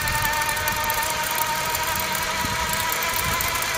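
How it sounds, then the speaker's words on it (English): An Ecospeed electric mid-drive motor on a mountain bike hums steadily as it accelerates up a hill, with a constant high-pitched whine over rumbling road and wind noise. "And notice the motor tone. We're actually accelerating up this hill."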